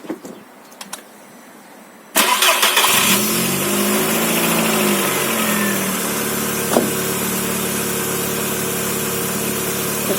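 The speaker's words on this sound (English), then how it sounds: "just going to give it a start up, let the oil work around the engine and the oil filter" A VW Beetle engine is started just after an oil and filter change: a few clicks, then a sudden crank and catch, a rising rev that settles into a loud, steady idle with one small blip.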